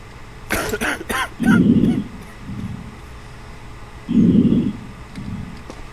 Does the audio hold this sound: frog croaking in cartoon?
no